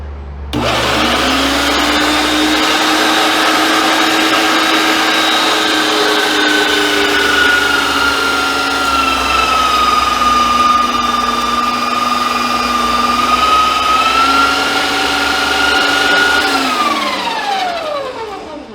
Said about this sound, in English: I'm probably gonna grind it twice just because I've got the coarse plate on.